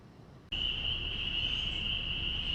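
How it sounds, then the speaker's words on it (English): Spring peeper frogs call in early spring, forming a dense, continuous high-pitched chorus that sets in abruptly and holds steady, fairly faint and distant, with no voices. "But those peepers, it's springtime, my friends."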